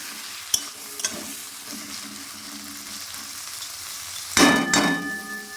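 Marinated prawns spit and sizzle in a wok, with a couple of sharp utensil clanks early on and a louder burst of frying and stirring near the end.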